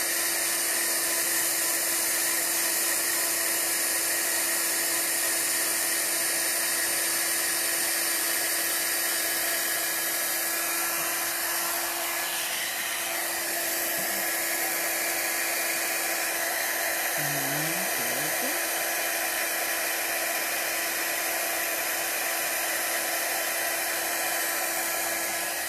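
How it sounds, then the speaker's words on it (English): A heat gun embossing Versamark-stamped paper for a graduation card blows with a loud, steady whir and airy hiss, running continuously close by with slight shifts in tone. "Alright, and then the heat gun."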